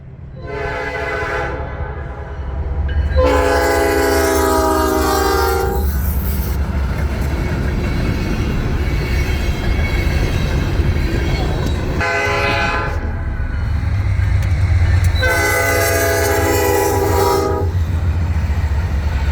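Norfolk Southern freight train NS 309, led by heritage unit NS 8104 in Lehigh Valley colors, rumbles steadily past up close, sounding its horn in two long blasts over the continuous low roar of the engines and cars.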